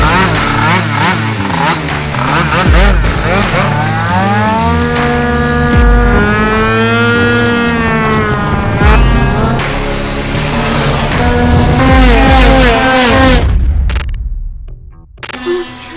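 Racing scooters practicing on the Pomposa circuit in Italy during the Polini Cup final, several high-revving two-stroke engines screaming past loudly, pitch rising and falling as they pass, cutting off abruptly near the end.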